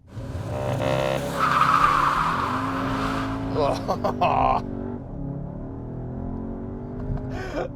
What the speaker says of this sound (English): all we got was miles and miles of wheel spin, as you would have heard